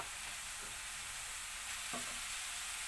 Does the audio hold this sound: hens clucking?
no